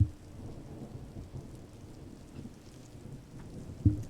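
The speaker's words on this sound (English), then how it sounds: "I hope you like the sounds of rain in the background of me reading" Rain falls steadily outside with low rumbles of thunder, faint and distant, including a couple of soft deeper booms near the start and end, with no talking.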